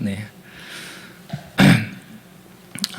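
A single harsh cough bursts out amid quiet speech, with softer vocal sounds before and after it.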